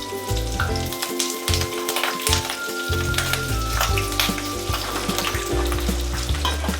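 Ginger, garlic, green chillies and dried flowers sizzle in hot oil in a pan for a sweet-sour jujube pickle, with a steady close crackle, occasional stirring scrapes and a low background hum.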